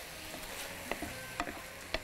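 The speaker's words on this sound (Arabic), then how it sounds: "تشويحة حلوة مع البهارات شوية المشروم" Mushrooms with spices being sautéed in a pan, heard as a soft, steady sizzle with a few sharp clicks and scrapes from stirring, close and fairly quiet.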